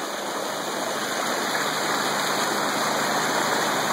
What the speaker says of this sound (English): Got some pretty good water flow.